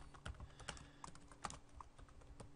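Quiet, close computer keyboard typing for entering names into a spreadsheet column, a quick irregular run of soft key clicks with no talk.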